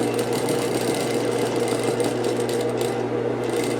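A sewing machine stitches a lace appliqué decorated with beads and pearls, a close, continuous rapid mechanical hum and needle chatter that holds steady for nearly four seconds without talk.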